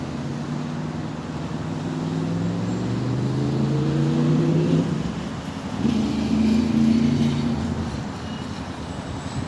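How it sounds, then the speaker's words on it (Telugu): Cars pass on a city road far below in Qatar, a distant broad traffic rumble that swells and fades with passing engines and one vehicle's whining note rising over it. "కింద కార్లు పోతూ ఉంటాయి"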